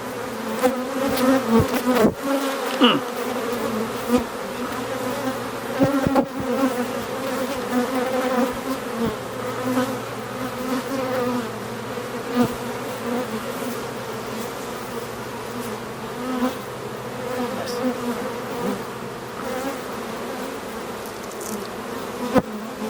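A honeybee colony buzzes steadily at an open hive, a dense sustained hum of many insects close by, with a few brief knocks near the start.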